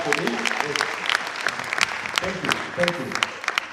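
An audience at a university professional career day claps in a steady patter while speaker voices carry over the applause.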